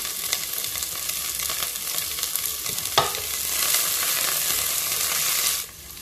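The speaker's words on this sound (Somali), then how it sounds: "waxaa sugeynaa inta basasha nooga soo shiilmi doonto" Chopped onions fry and sizzle in oil in a pan while a biryani with vegetables is being cooked, a steady bright hiss with a stirring scrape midway and the sizzle dropping off near the end.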